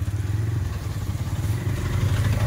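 Motorcycle being ridden, a steady low engine drone with faint rattling clatter running continuously close by, no talk.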